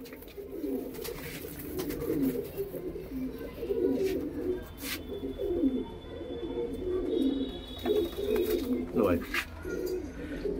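Pet pigeons, including a white-eyed female, coo in low, steady murmurs close by for the whole stretch, while someone talks over them.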